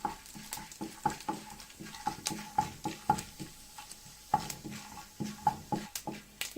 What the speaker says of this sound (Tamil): உளுத்தம்பருப்பு, கடலைப்பருப்பு சேர்த்து லைட்டாக வறுத்துக்கலாம்.